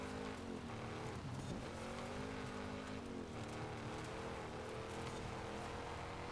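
A car in Forza Horizon 5 drives on dirt with a continuous engine drone, wavering revs and faint tire scrub, moderately loud and steady throughout, with no talk.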